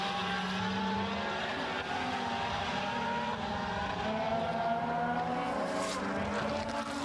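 DTM touring race cars lapping the sunny Valencia circuit in Spain in 2010, several engines droning and shifting pitch together at a steady loud level, a dense layered roar with no break and no voices.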